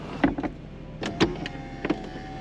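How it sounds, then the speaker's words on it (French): Electric soft top of a red BMW Z4 M40i convertible closing on its motor: a few separate whirring and clunking pulses, moderately close, with faint background between them. "Capote qui viendra se refermer électriquement."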